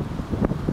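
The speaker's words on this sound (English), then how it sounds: "It's Scotland, it's cold and it's windy." Wind buffets the microphone outdoors in Scotland in a steady low rumble with a few brief gusts.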